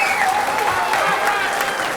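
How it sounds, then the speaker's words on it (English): A crowd at a 9-ball pool match at the 2008 US Open erupts in loud, dense applause after a 1-9 combination shot, clapping steadily for a couple of seconds. "And listen to the crowd."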